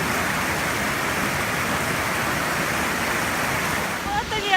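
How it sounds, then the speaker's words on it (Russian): Winter waterfalls at Plitvice Lakes in Croatia pour in a steady, loud, broadband roar that fills the whole stretch, with a brief voice near the end. "Вот они, озера, водопады."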